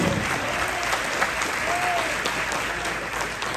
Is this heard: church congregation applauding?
yes